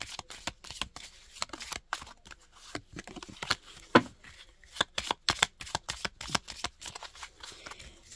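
Oracle crystal cards are shuffled by hand in a rapid, uneven run of crisp riffling flicks and soft slaps, close and fairly quiet, with faint talk in places.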